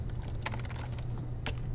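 Computer keyboard typing close up, a quick cluster of clicky keystrokes followed by a short pause and one more sharp tap, over a steady low background hum.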